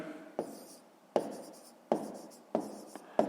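Pen or chalk writing out a math solution, short scratchy strokes in about five bursts with tapping starts, close and quiet.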